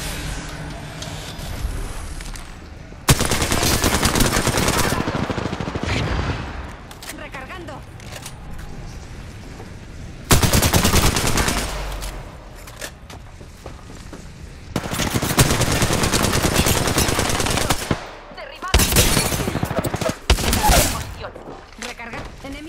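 Bursts of automatic gunfire in the battle royale game Apex Legends, season 5 match with Loba, several loud sustained volleys separated by short pauses, with talk between and over the shooting.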